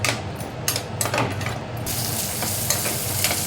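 Large onion and garlic frying in oil in a pan, a continuous close sizzle with a few light scraping stirs near the start.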